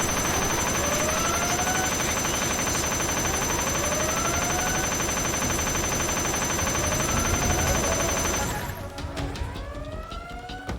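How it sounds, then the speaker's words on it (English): Helicopter rotor drone thrums loud and continuous in Metal Gear Solid 3, mixed with sweeping siren-like tones and gunfire bursts, then cuts away near the end leaving quieter scattered effects. "Why am I still hearing helicopter blades?"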